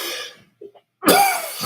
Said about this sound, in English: Hope I don't cough like this when I'm filming.